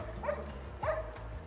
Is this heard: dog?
yes